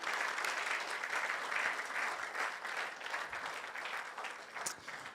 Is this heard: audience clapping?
yes